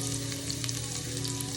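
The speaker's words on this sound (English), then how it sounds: "You're gonna drop in your shallots and your garlic right into the pan." Shallots and garlic sizzle in a frying pan, a steady close hiss and crackle with a few brief stirring sounds, no voices.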